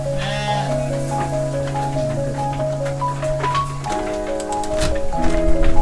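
Boer goats and sheep bleat loudly in a colony-style farm pen, with several overlapping drawn-out calls close by and one animal after another joining in.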